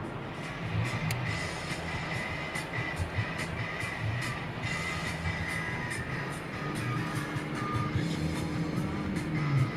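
A vehicle drives along a road in Wyoming toward snowy conditions, giving a steady, continuous rumble of engine and tire noise from inside, with no talk.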